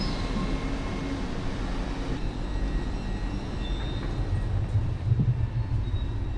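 A Great Western Railway train from London Paddington runs through Reading station, a loud continuous rumble of wheels and carriages with rising clatter and a brief squeal toward the end.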